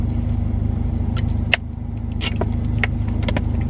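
Steady low car engine drone while driving, with a constant rumble and faint clicks and rattles inside the cabin.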